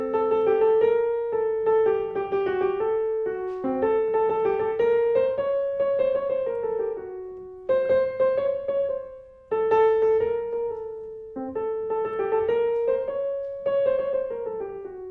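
A melody in the octatonic mode, built on alternating half and whole steps, is played with simple sustained chords underneath, as in a Bartok string quartet. Phrases rise and fall in steady notes with short pauses between them, and no one speaks.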